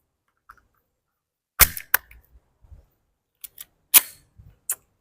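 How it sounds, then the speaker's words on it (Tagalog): A Sarsilmaz SAR9 sub-compact 9mm pistol fires several sharp, sudden reports at uneven intervals, with quieter clicks and knocks between the shots. "Iputok natin to ulit."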